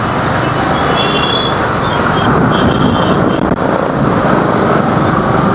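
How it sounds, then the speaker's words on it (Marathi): A loud, continuous roar of a rescue helicopter passing close overhead, steady and broadband with no speech. "रेस्कोचा हेलिकॉप्टर आहे तो, दिसते का गाईज"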